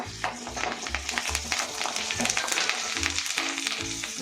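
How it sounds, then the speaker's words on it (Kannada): Fried gram (putani) roasting in a pan with garlic for North Karnataka-style chutney, giving a steady close sizzle and crackle with intermittent scraping stirs, no voices. "ಪುಟಾಣಿ ಅದು ಕಂದು ಬಣ್ಣ ಗಂಟ ಹುರಿಬೇಕು"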